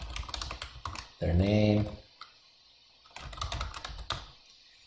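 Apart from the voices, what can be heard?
typing on a computer keyboard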